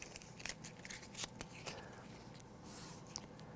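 Crisp rapid riffling and snapping of playing cards being shuffled for a game of 1846, a few quick bursts close by, with soft scraping between them and no voices.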